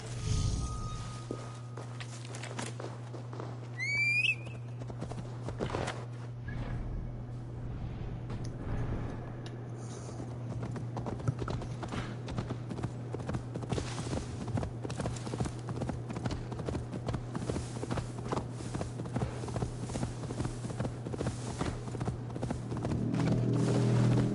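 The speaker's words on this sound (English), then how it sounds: "Call my horse and go over there." Horse hooves clip-clop in a steady walking rhythm over a low, constant hum, with a brief whistle-like call early on, in the video game Assassin's Creed Valhalla.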